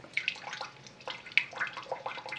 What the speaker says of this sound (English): I want to rinse the threads of the capillary with DI water to remove the old solution